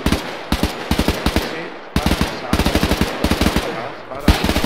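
Automatic gunfire in the video game ArmA 3, loud rapid bursts of shots in several sharp volleys separated by brief pauses.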